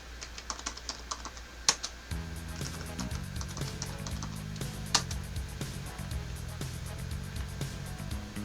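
Quiet, close key presses on a computer keyboard come in short irregular bursts as a password is entered, over a faint low background hum.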